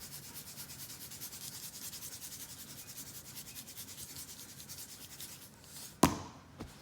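Redmond Real Salt shaken onto bone-in pork chops that have been rubbed with avocado oil, giving a soft, steady granular rubbing hiss that continues for several seconds and ends in one sharp, louder tap.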